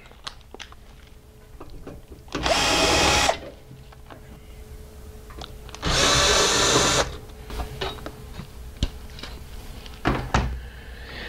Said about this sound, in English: Using a Phillips screw bit, remove the front screws holding the front cover on.